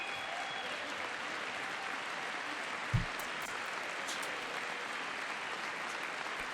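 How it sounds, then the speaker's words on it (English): An audience applauds steadily during a presidential speech to Congress, a faint, even wash of distant clapping with one brief thump partway through. "They gotta relax with the clapping"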